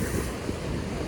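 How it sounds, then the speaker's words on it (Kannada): Strong wind gusting steadily at the seashore on a fishing outing, a continuous loud rushing roar with surf mixed in and wind buffeting the microphone, no speech. "ಗಾಳಿ ಒಂದು ಜೋರಿತ್ತು."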